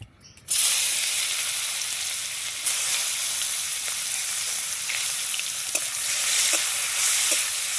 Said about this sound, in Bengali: কড়াই তেল গরম হয়ে গেছে পেঁয়াজটা দিয়ে দেব